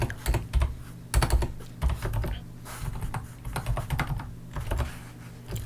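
Fingers type code on a computer keyboard in close, irregular bursts of clicking keystrokes with short pauses between, the clatter clear and alone.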